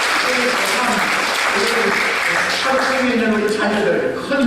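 A church congregation at a combined cell-group worship service claps in sustained, dense applause, loud and even throughout, with some voices faintly underneath.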